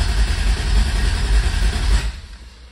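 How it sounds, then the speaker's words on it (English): A car engine cranks steadily without catching, a continuous low churning that stops abruptly near the end; no voices. "It just cranks and cranks."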